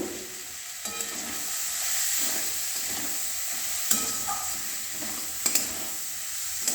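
Paneer chilli with ground pepper fries in a pan, with a steady sizzle broken by a few sharp clinks of stirring against the pan.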